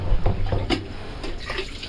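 Water running from a tap or hose into a container, collected for mixing cement on a building site: a close, continuous splashing gush with small uneven bursts.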